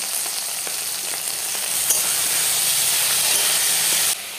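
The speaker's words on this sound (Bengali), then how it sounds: "এবার আলুটাকে ভেজে নেব" Potatoes fry in hot oil for chickpea ghugni, making a loud, steady sizzle and hiss with a few faint stirring clicks. The sizzle swells midway, then drops abruptly near the end.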